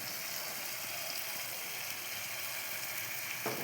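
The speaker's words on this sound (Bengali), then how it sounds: "দিয়ে ভালো করে মশলাটাকে আমি এখন কষাবো" Spice paste with salt and turmeric frying in oil in a pan for chicken and egg curry, a steady close hiss of sizzling that runs evenly throughout with a faint scrape near the end.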